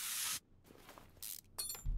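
Two short hissing bursts from a spray can in the Car Mechanic Simulator 2021 game, each about a third of a second, close and bright, separated by quieter mechanical shuffling.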